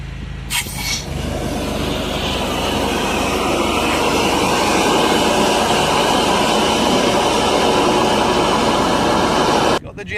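A high-pressure drain jetter blasts a blocked drain line with a loud, continuous roaring hiss that builds slightly. Brief clicks mark the start and the sudden cut-off at the end.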